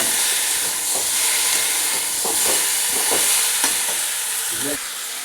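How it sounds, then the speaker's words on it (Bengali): Meat sautéing in a pan for a Bengali curry, a steady loud sizzle and hiss with a few scrapes and stirs of a spatula against the pan. "এবারে ভালো করে কষিয়ে নিচ্ছি।"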